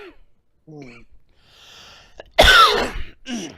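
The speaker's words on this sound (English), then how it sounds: "That wasn't a sneeze, that was a cough." A person gives a single sharp cough close to the mic, following quieter breathy voice sounds and a brief spoken word, with a short vocal noise after.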